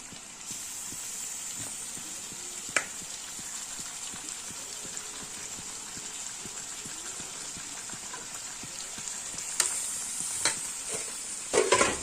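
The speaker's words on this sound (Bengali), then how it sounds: "দিয়ে দিলাম মাংস। চলো মাংসের সাথে এখন কষবো মশলাটা।" Mutton sizzles with spices in a pan for mutton kosha, a steady frying hiss under continuous rhythmic stirring scrapes, with a few louder clanks of the spoon against the pan near the end and no voices.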